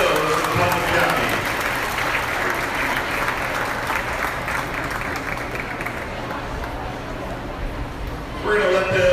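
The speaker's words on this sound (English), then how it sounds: "Let's give them a big round of applause." Steady crowd applause fills an indoor show ring at a goat grand drive, honoring the top five Putnam County goat does; the clapping runs loud and continuous with faint crowd babble, swelling again near the end.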